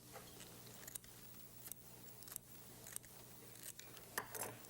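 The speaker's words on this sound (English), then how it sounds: "Then you take a pair of kitchen scissors and trim off these others that are sticky." Kitchen scissors trimming the sticky leaf tips off an artichoke, a series of faint, sharp snips spaced about a second apart over quiet room noise.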